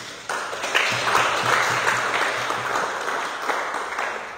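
A church congregation applauds during a sermon, with steady, fairly close clapping from many hands that starts abruptly and holds for several seconds.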